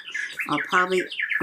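An indoor clock chimes with a recorded bird song: a quick series of bright chirps and squawks, fairly close. A person speaks briefly alongside it.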